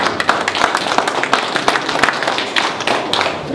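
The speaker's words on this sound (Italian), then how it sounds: "Applauso." Audience applause at the 47th regional mushroom fair in San Sisto, Italy: a steady patter of many hands clapping with sharper individual claps, moderately loud and continuous for a few seconds.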